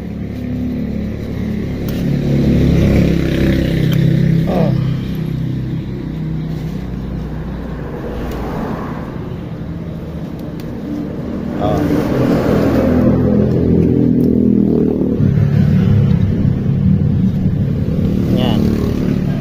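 A Honda Click 150i V1 scooter engine revs with its rear wheel spinning freely, a loud, close drone that eases off and then surges again while someone talks nearby.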